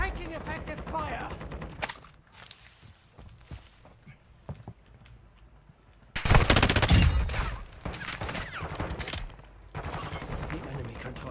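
Video game gunfire in a military shooter match, a loud burst of rapid shots around the middle with scattered shots and game announcer voices and sound effects before and after.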